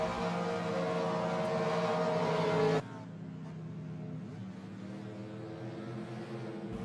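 Race cars roar past at Le Mans in a racing video game, a loud, layered engine whine that drops abruptly to a quieter, distant hum partway through, with no voices.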